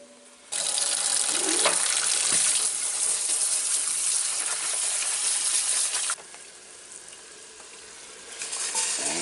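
Rinsed kidney beans tumble into a pot of simmering chili, a sudden loud sizzling rush of water and steam that holds for several seconds, then eases to a quieter bubbling before swelling again.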